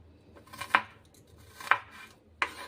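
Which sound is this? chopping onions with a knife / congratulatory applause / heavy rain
chopping onions with a knife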